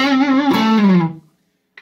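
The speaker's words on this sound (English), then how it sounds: "Let's show you the overdrive real quick on the guitar" A single overdriven electric guitar note from a Tagima JA3 played straight into a VHT Dumble-clone amp, no effects, bends and sustains with gritty tone, then cuts to silence before a brief pick scrape.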